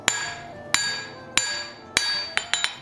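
Hot steel is hammered on an anvil while forging a pair of tongs, with four evenly spaced ringing blows followed by three quicker strikes in a tight cluster, close and loud, each leaving a long bright metallic ring.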